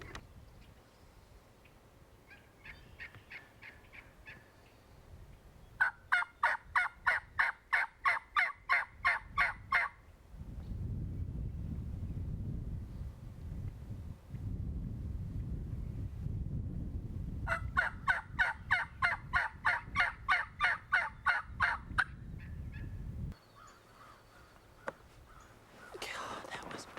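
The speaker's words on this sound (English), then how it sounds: "Man, I've never had so many turkeys right on me like that." Wild turkeys gobble close by near decoys during a spring hunt in two loud, rapid rattling bursts, with low rustling and faint whispering between them.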